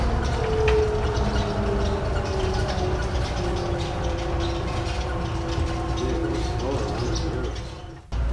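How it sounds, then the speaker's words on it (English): The Miami airport monorail runs to the rental car center, with a steady rolling hum and rising and falling whine heard from inside the car. Voices murmur underneath, and the sound cuts briefly near the end. "This is the monorail to the rental car place."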